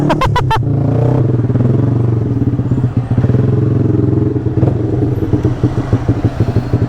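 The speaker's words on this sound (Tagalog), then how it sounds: "sobrang solid, sobrang lakas ng motor na to kahit all stock" A stock motorcycle engine runs close by, a loud steady throbbing idle with fast regular pulses and some mechanical clatter, opening with a few sharp revs before settling into a continuous rumble.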